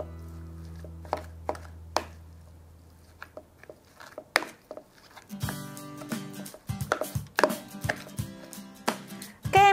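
Pork bun filling with MSG, salt and seasoning stirred and mashed in a bowl, with irregular soft thuds and clacks of a utensil, scattered then quicker, close up.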